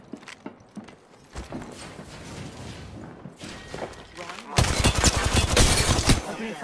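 Gunfire in the video game Apex Legends, with sporadic shots early on building into a loud, dense burst of rapid fire in the final seconds, close and mixed with other game noise.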